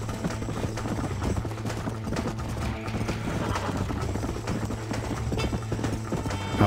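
Horse hooves galloping in Red Dead Redemption, a fast continuous clip-clop rhythm running close and loud over a low steady game hum, with no voices.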